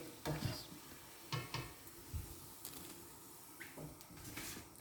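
Potato smilies fry gently in a pan over medium heat, giving a quiet, low sizzle broken by a few soft scrapes and taps as they are moved, heard close and without speech.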